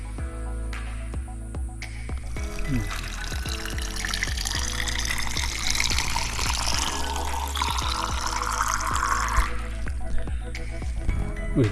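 Water pours and trickles out of a bottle on a mountain hiking trail at Gunung Lawu, a steady gurgling stream for several seconds with small drips before and after, close by.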